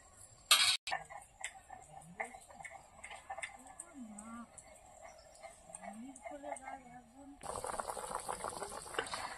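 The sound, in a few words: Katla fish curry boiling in a pot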